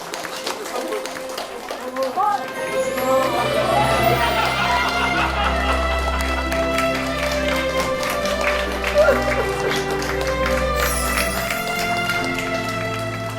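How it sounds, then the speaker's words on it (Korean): An audience at a tearful family reunion claps and cheers to welcome a father home, with dense crowd applause and excited voices over a low rumble throughout. "다 박수로 환영해 주세요"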